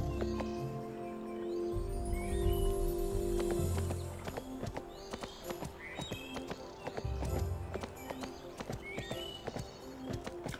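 Horse hooves clip-clop at a steady, rhythmic gallop in Barbie Horse Adventures: Wild Horse Adventures, with a whinny and a background music bed, moderately loud throughout.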